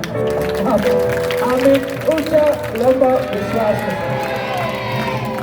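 A church congregation at a worship service claps and cheers as a loud, continuous crowd roar, with voices calling out over it throughout.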